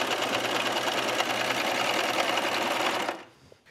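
A cover hem sewing machine chains off after hemming a sporty skirt with a ribbed waistband. It makes a loud, dense, continuous whir for about three seconds and then stops sharply.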